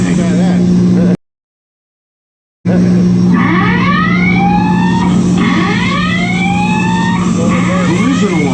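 A collision alarm sounds aboard the destroyer USS Laffey, a loud rising electronic whooping tone that repeats in sweeps over a steady mechanical hum, cut off briefly by a gap of silence before resuming.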